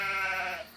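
A single sheep's bleat in a stop-motion animated story about a flock on a hill, one close, wavering cry lasting under a second and trailing off.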